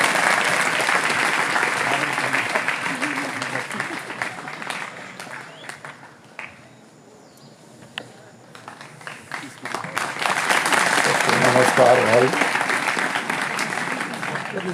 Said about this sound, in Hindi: आपके जोरदार तालियों के बीच बुलाना चाहेंगे।